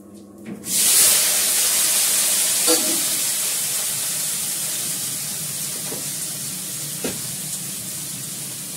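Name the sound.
cumin and asafoetida tempering sizzling in a hot pan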